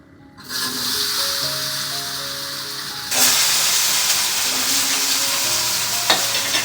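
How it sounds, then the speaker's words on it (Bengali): Chopped onion and spices hit a little hot oil with a sudden sizzle, which grows louder and brighter partway through as more is added, then keeps up a steady close hiss with occasional stirring scrapes. "এখন এটাকে একটুখানি ভেজে দিই"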